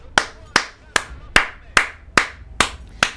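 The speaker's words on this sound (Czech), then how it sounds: "Tak, potlesk pro Liona, že to nakonec zvládnul." Eight sharp, evenly spaced claps ring out in a steady rhythm, loud and close, with nothing else around them.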